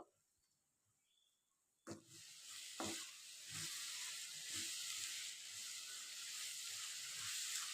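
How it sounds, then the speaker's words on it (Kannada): Tomatoes frying in oil with cumin powder, garam masala and turmeric for an egg masala curry: a quiet pause gives way to steady loud sizzling, with a few sharp spatula scrapes and stirs against the pan. "ಟೊಮೆಟೊಕ್ಕೆ ಮಸಾಲೆ ಪುಡಿನೆಲ್ಲ ಹಾಕಿದ ಮೇಲೆ ಎಣ್ಣೆ ಬಿಡೋ ತನಕ ಚೆನ್ನಾಗಿ ಫ್ರೈ ಮಾಡ್ಕೋಬೇಕು"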